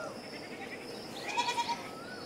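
Goats bleat faintly in a rural yard where vines are fed to them, a few short wavering calls rising over a steady outdoor background.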